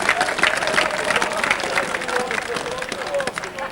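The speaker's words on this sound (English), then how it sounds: "So Hobbs gets a good generous round of applause there from the Bradford spectators" Bradford spectators applaud at a rugby league Challenge Cup match, generous clapping spread through a crowd, steady and moderately distant beneath a commentator talking over it.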